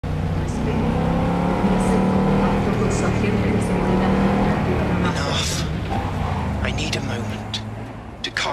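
Car engine driving in Cyberpunk 2077, a steady sustained drone with shifting tones, under a voice talking throughout.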